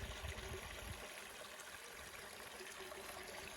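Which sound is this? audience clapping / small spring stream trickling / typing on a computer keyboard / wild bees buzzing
small spring stream trickling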